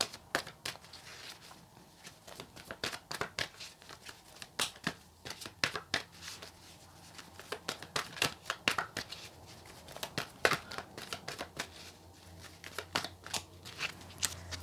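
Tarot cards are shuffled for a reading, a long run of close, crisp riffling and flicking bursts in an uneven rhythm with brief pauses between them.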